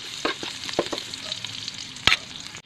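Garlic sizzles in a hot pan, a steady frying hiss broken by several sharp scraping stirs and one loud clatter near the end, with no talking.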